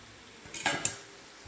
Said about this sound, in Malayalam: നമ്മുടെ ഉള്ളിയെല്ലാം നന്നായി വഴന്ന് വന്നിട്ടുണ്ടെങ്കിൽ നമുക്ക് ചിക്കൻ ചേർത്ത് കൊടുക്കാം